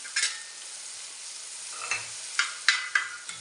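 Fried rice with a little added sugar is stirred in a hot pan: a soft background sizzle broken by several sharp scrapes and clatters of the spoon, close up and without talk.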